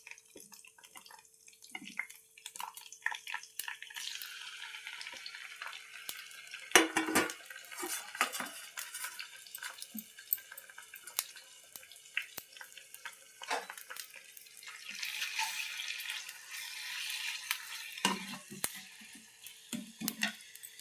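Ginger-garlic paste with coarsely crushed onion and tomato going into a pan for a fish curry, with clattering utensil scrapes, stirring knocks and a soft sizzle, no talking.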